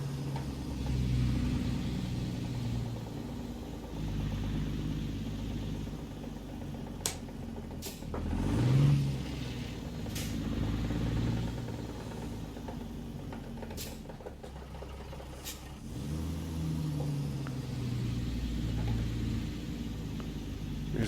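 Mack R truck diesel engine pulling in first low gear in a truck simulator, a steady low droning rumble throughout with a few faint clicks and a brief swell midway, no talk.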